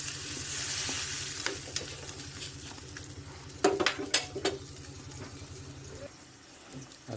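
Broth poured into a sizzling pan of duck blood stew (dinuguang bibe) gives a steady frying hiss under a low hum, then sharp clatters of utensils against the pan, with someone talking over it.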